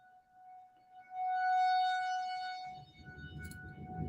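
A wailing tornado warning siren rises from faint to loud and steady, then fades slightly as rumbling wind-like noise builds underneath.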